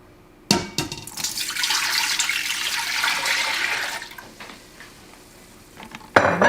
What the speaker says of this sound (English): we're going to put our broth into the Instant Pot